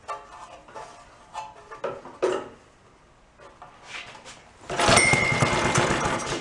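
Antique Briggs & Stratton small engine that was wet-choked and being revived: it catches after a few quiet attempts, then runs at a steady loud, buzzing idle. The running engine sounds close.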